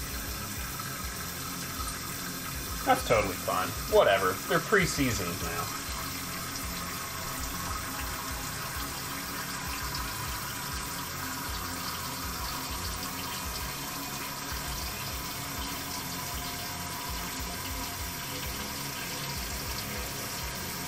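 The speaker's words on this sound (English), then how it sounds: "The most important thing, honestly, is to just keep hot water running so you don't get it cooling off in the sink" Hot water running from a kitchen sink tap in a steady, continuous hiss and splash throughout, with a brief clatter of handling partway in and a person speaking casually over the flow.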